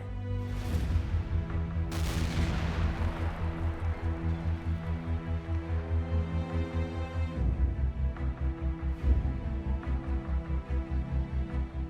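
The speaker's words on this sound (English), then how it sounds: "the French guns on New Corsica are silent no more" French artillery and guns on New Corsica, firing in a war scene: heavy booms, the loudest near the start, rolling over a low, rhythmic throbbing rumble that continues throughout.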